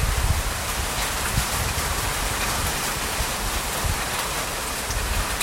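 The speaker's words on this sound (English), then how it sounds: "It's raining" Steady rain falls in a continuous, dense hiss that stays at an even level from start to finish, with no voices.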